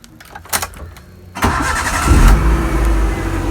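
A car with a Remus Valvetronic dual-tip exhaust cranks briefly and fires up, settling into a loud, steady idle rumble close by after a few quiet clicks.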